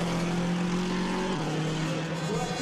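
WRC rally car on the Monte Carlo superspecial at night, engine note holding steady then dropping abruptly as the driver brakes, with loud, continuous motor roar and crowd ambience throughout.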